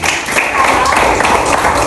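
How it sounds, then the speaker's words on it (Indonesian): A classroom of primary schoolchildren clap their hands together in a dense, steady burst of close applause that fills the room, with voices mixed in underneath. "Semuanya tepuk tangan dulu."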